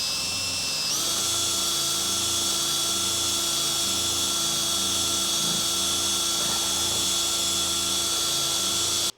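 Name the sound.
power buffer buffing a motorcycle part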